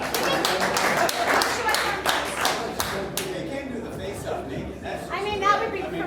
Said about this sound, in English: How about a round of applause for the most awkwardly placed mirror in the history of weigh-ins